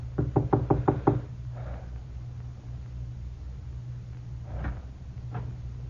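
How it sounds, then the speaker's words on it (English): Knocking on a door as a radio drama sound effect: a rapid series of about seven sharp raps in the first second, followed by quieter shuffling movement over a steady hum. "I made sure no one was following me and knocked on the door."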